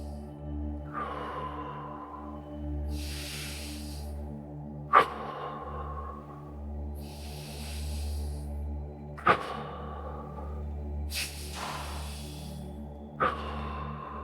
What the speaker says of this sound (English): Take 5 deep breaths. Inhale through your nose and exhale through your mouth.